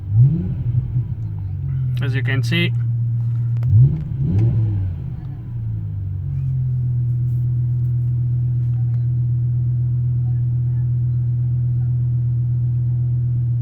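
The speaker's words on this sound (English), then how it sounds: "revving the engine makes no difference" A BMW E60 M5 engine idles steadily, with a couple of brief rev surges early on, while a person talks over it; the car has a battery charging fault.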